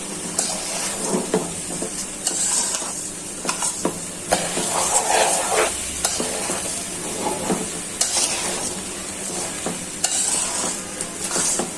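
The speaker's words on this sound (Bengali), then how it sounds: "এখন কিছুক্ষণ ভেজে নিই ভালো করে, তারপরে মশলা দিই।" Rice fried with salt in a pan for bhuna khichuri sizzles steadily up close while a spoon stirs and scrapes in repeated strokes, with no voices.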